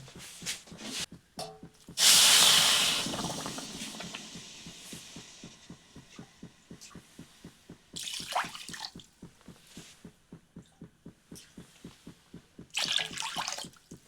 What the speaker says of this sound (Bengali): তো এখানে আমি 3 বাটি জল দিয়ে দিলাম।